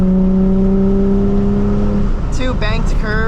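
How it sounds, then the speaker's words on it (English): Nissan 350Z engine on a freeway, a steady loud drone with sustained tones that drop away, then a quick series of rising revs as it downshifts and accelerates near the end. "Get some downshifts in here."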